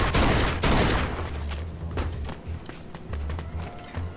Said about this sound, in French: J'ai un petit Colt. Enfin, semi-automatique, hein, comme ils disent de nos jours